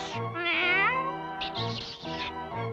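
A cartoon cat meows and caterwauls loudly in a long, wavering, strained yowl that rises and falls, close and continuous, with no talking over it.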